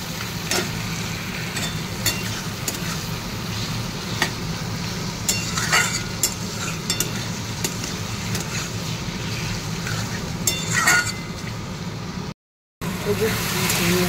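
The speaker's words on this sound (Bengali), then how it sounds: "এই যে পেঁয়াজগুলো বেশ লাল লাল হয়ে গেছে, চিংড়ি মাছগুলো সব দিয়ে দিয়ে দেবো।" Prawns sizzle in a pan with browned onions, a steady frying hiss broken by scrapes and clatters of stirring, with a brief cut near the end.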